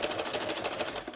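A sewing machine rapidly stitching along the outline of a bow on a fabric mouse-shaped kitchen potholder, a quick steady rattle of needle strokes close up, heard alone.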